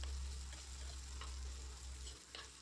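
Chopped onion and green chillies frying in a pan, a steady close sizzle with faint scraping stirs and no voices, holding at an even level throughout.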